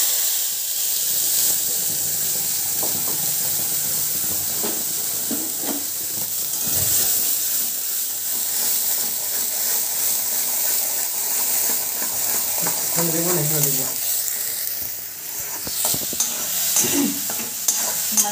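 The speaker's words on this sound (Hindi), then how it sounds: "मसाला को अच्छी तरह से भूजेंगे" Freshly ground masala fries in hot ghee for a paneer dish: a loud, continuous sizzle and hiss with repeated spoon scrapes and stirring knocks against the pan, close by, and nobody speaking.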